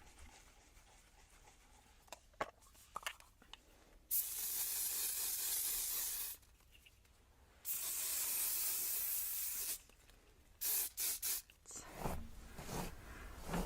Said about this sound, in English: I am going to put some hairspray on them